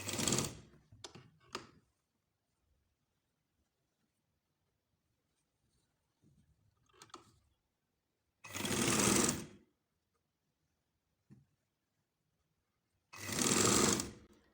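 Sewing machine stitching a baby frock, heard as two short loud bursts of rapid needle clatter in an otherwise quiet room, with a few faint taps and fabric handling noises between them.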